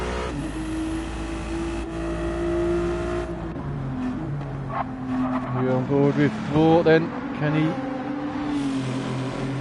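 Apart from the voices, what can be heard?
Ferrari GT3 race car engine in a racing video game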